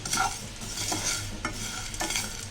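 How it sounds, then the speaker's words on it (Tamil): Black pepper, cumin and fenugreek roasted in a pan for rasam powder, stirred with a spoon: close, dry scraping strokes in a loose rhythm with faint crackle beneath. "இப்போ இந்த மிளகு சீரகம் வெந்தயெல்லாம் நல்லா வறுபட்டுச்சு"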